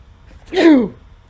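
A single sharp sneeze, close and loud, rising quickly and falling away within a second, surrounded by quiet.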